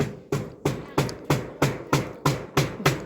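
Hammer blows driving nails into wood while a small hut is built, about nine close, loud strikes at a steady even rhythm with no talking between them.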